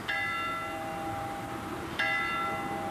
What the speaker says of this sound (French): Les cloches de l'église Saint-Jérôme sonnent le glas.